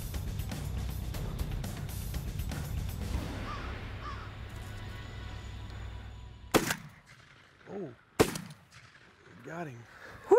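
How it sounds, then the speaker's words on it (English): Sharp, loud gunshots fired while hunting Osceola turkeys in Florida, two distinct cracks a couple of seconds apart in the later half, following a rumbling outdoor stretch with voices. "I didn't know you were shooting"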